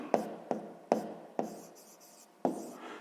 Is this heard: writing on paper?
yes